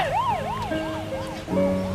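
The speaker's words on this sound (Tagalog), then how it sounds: "Bakit may ambulansya?" Ambulance siren wails in a continuous rising and falling pattern, moderately loud and slightly distant, over a low background hum with no talk.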